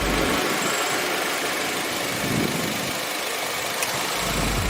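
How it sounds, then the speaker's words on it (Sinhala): A DFSK car engine with variable valve timing idles in a steady, even hum with low vibration, close by and without voices. "ඒ වගේම එන්ජින් එකේ නොයිස් එක වයිබ්‍රේෂන් බොහෝ දුරට අඩුයි"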